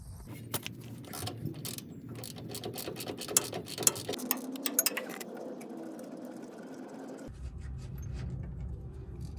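A ratchet wrench clicks rapidly, removing the 17mm bottom shock bolt while fitting Dobinsons IMS shocks on a 1996 vehicle, with dense metallic ticking and a few louder clanks. The spinning stops partway through and then resumes.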